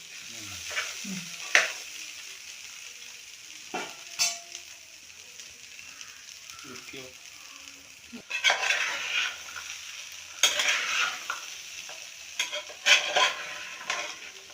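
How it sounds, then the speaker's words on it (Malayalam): Chickpea masala with cooked balls being stirred together in a pan over the heat: a spoon scrapes and clinks against the metal in irregular strokes over a soft, continuous sizzle, with louder bursts of stirring later on. "എന്നിട്ട് ആ കടലയും ആ മസാലയും ആ ബോൾസും എല്ലാം കൂടെ ഒന്ന് നല്ലോണം ഒന്ന് മിക്സ് ചെയ്തെടുക്കണം"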